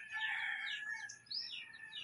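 Rooster crowing faintly in the distance while chickens are fed outdoors, two drawn-out calls separated by a brief pause.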